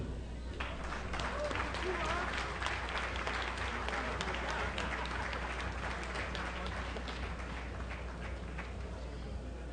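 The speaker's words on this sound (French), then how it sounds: "On peut applaudir." A crowd claps steadily in sustained applause at a Quebec soccer gala and induction ceremony, a dense even patter of many hands that carries on throughout.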